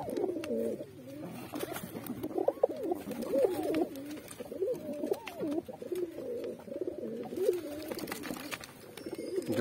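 Tera pigeon coos steadily with soft, rolling calls that carry on throughout, close and fairly loud, with faint peeping from two baby chicks in the nest and no talk.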